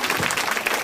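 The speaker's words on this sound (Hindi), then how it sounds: "एक बार इनके पिताजी के लिए भाई जोरदार ताली लगाइए।" Audience applause at a children's devotional drama staged at a Mata darbar, a dense steady wash of clapping lasting under a second with no talk.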